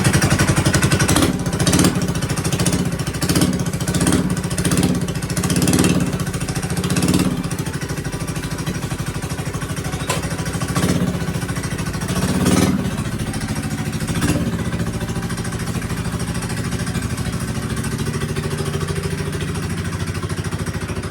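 A modified 212 engine fitted with a hot 265 cam runs on an off-road vehicle, a loud, steady close-up drone at idle with repeated short throttle blips early on, then settling into an even, continuous running note.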